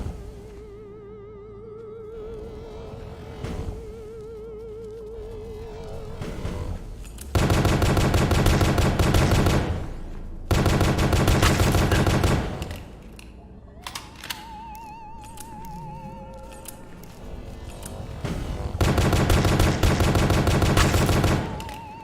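Repeated dart shots fired in the indie horror video game The Pony Factory, loud bursts of rapid gunfire-like bangs separated by quieter stretches of game music and ambience.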